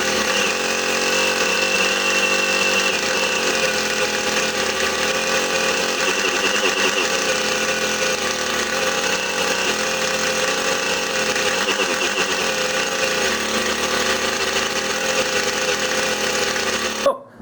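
A small Honda TRX70 ATV engine idles steadily while running rich after years unused, a buzzy, continuous near drone with slight wavering that cuts off abruptly at the end.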